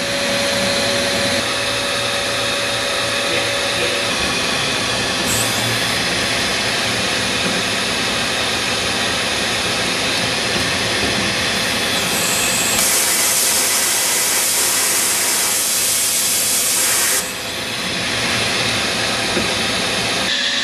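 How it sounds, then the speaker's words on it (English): A CNC machining center runs a steady loud whirring and hissing drone of spindle and coolant, with a brief higher-pitched burst partway through as the automatic tool changer swaps a tool into the spindle; no talking. "I'll do a tool change here in a second for you to take a look at it."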